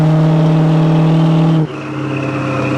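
A 1973 Pontiac Firebird Formula 350 with aftermarket exhaust revs loudly up close, holding a strong throttle note before abruptly dropping back to a lower, steady engine drone.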